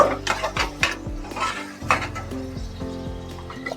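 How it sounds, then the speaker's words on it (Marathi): Pulao rice mixed with lemon juice and a little curd is stirred in a pot, a spoon scraping and clinking against the metal in repeated close strokes over faint background music. "आता ते ढवळून घेते"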